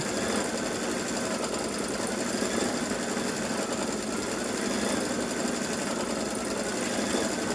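A sewing machine stitches a decorative scroll along a seam in a continuous, even mechanical whir, close and steady throughout with no pauses.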